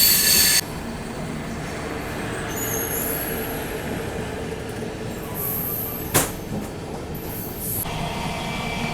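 The South Bihar Express passenger train passing with red LHB coaches, a steady rumble of wheels on rails with high metallic squeals at the start and middle, loud and continuous throughout.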